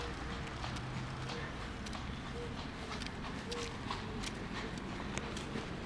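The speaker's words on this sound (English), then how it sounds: "Just getting about town on his horse and cart." A horse pulling a cart through a small town, its hooves clip-clopping in a faint, steady rhythm on the street amid background noise, with people talking nearby.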